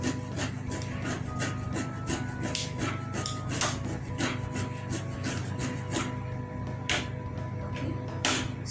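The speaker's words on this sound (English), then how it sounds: "So I'm grating the ginger." Fresh ginger is grated in a home kitchen, a close, steady series of rapid rasping strokes repeating in quick rhythm over a constant low hum, with no talk.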